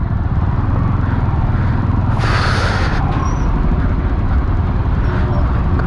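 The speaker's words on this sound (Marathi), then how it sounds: "खतरनाक ट्रॅफिक जाम आहे खतरनाक." A traffic jam on a road on the way from Raigad fort toward Nashik, heard close up as a loud, constant rumble of idling and creeping engines, with one brighter vehicle surge passing midway.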